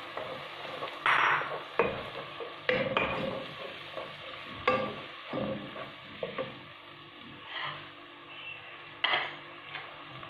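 Onions and tomatoes frying in a pan, a soft steady sizzle broken by occasional stirring scrapes and utensil clicks, close and moderately quiet.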